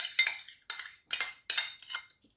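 A spoon whisks a homemade facial anti-wrinkle mixture in a small bowl, giving five quick bursts of bright clinking and scraping against the bowl, each about a third of a second long, near and moderately loud with no voices.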